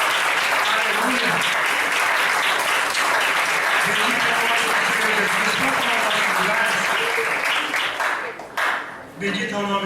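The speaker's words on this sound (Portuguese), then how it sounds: "Você pode aplaudir o Senhor Jesus Cristo, irmão." A church congregation applauds loudly and continuously during an anniversary worship service, the dense clapping fading near the end as a voice takes over.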